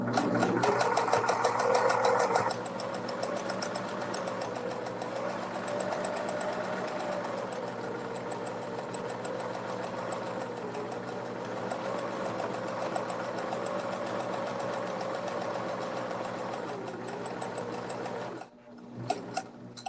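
A sewing machine stitches across a fabric bowl cozy in one long, steady, close-up run of rapid mechanical chatter, which stops near the end with a brief handling noise.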